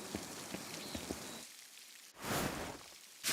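Rain falling in the video game Pentiment, a steady patter with distinct drops at first, then broad washes of downpour that surge in and cut off in bursts.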